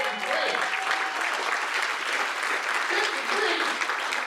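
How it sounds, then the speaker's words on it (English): A theater audience at a comedy show on a Carnival cruise ship bursts into steady, dense clapping that fills the room evenly for several seconds, with no voices rising above it. "You gotta clap for 53."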